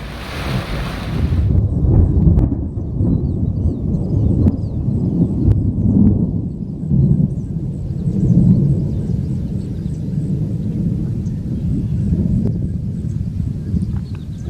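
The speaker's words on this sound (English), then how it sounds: "Big storm." Strong wind roars steadily through a thunderstorm at Patoka Lake in Indiana, a dense low rumble that buffets the microphone for the whole stretch, with no distinct thunderclap standing out.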